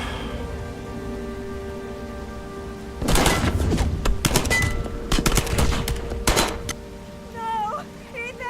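Bursts of gunfire from the video game Heavy Rain ring out in clustered volleys over a background music bed, with a voice shouting near the end.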